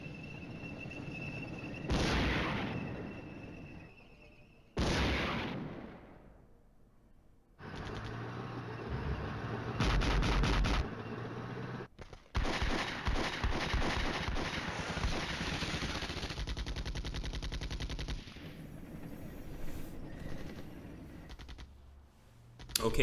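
Chieftain tanks firing in the Flashpoint Campaigns wargame: a series of loud booming blasts with rumbling tails, followed by dense bursts of rapid gunfire and continuous battle noise, with no voices.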